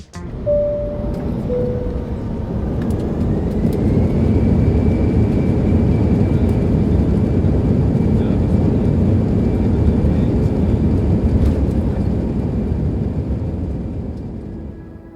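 Steady, loud engine drone of a parked airliner fills the cabin, with faint clicks, thumps and a brief tone near the start.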